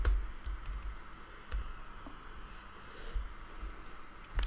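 Keys clatter irregularly on a computer keyboard as Python code for a WhatsApp bot is typed, with soft clicks and a few heavier thumps over a quiet room background, no talking.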